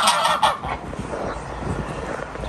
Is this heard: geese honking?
yes